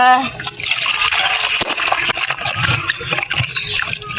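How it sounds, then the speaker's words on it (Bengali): Water splashes and trickles as a fish is washed at a well, a loud close pouring and gushing that runs continuously, with a voice talking over it. "আমরা এখন মাছটাকে ভালো করে ধুয়ে নিচ্ছি। আর এই যে আমরা কুয়ো পাড়ে দিচ্ছি মাছটা।"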